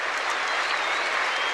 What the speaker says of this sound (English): the whole stadium rising to its feet to applaud the tournament's #1 seed